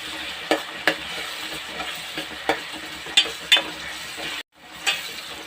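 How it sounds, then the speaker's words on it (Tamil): Onions sautéing in oil with turmeric, for a dried fish curry, give a soft continuous sizzle near the pan, punctuated by several sharp clicks and scrapes of stirring. "வெங்காயம் நல்லா வதங்கட்டும்"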